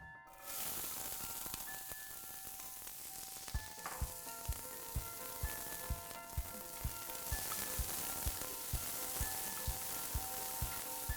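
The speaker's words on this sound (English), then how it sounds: "I'm going to sweat the onions for a few minutes." Diced red onion sweats in oil in a pan, a soft, quiet sizzle running throughout with regular light knocks or taps repeating roughly every half second after the start.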